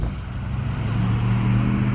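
A 2012 Ram 3500 pickup's 6.7L Cummins diesel, EGR and exhaust deleted, runs with a low, rough rumble, steady and close, with no voices over it.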